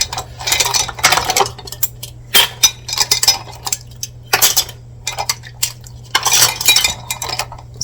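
Hot metal canning jar lids and rings clink and rattle against each other in a series of bright, irregular metallic chinks at close range, with short pauses between bursts and no talking.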